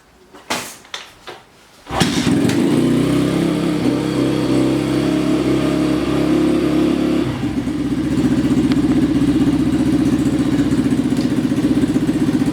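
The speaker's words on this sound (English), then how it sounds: "now we're going to give the bike a start and go from there" A Thumpstar TSR140 pit bike is kicked over a few times, then fires up and settles into a loud, close, steady single-cylinder idle with a slight dip midway, no talking.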